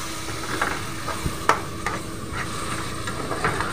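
Tomatoes, green chillies and curry leaves are stirred in a hot pan, giving a low sizzle with several distinct spoon scrapes and knocks against the pan at an uneven pace, close by.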